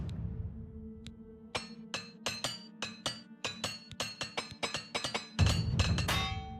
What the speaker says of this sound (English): Busted the last hammer.